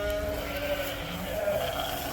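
Sheep on a farm bleat in drawn-out, wavering calls, close and fairly loud over a steady outdoor background, with no talking.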